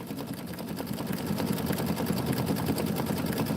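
An embroidery machine stitches a Kimberbell quilt tile, a fast rapid needle chatter over a low motor hum, steady and continuous after a slightly quieter start, heard alone without talk.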